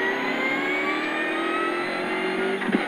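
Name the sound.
rally car accelerating on a special stage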